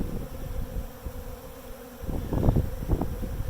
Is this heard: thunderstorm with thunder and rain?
no